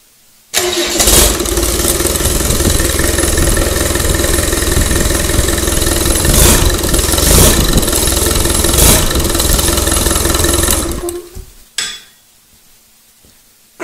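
A Land Rover 300Tdi diesel engine cranks and fires right away, then runs at a loud, steady clatter for about eleven seconds before being shut off, leaving near silence.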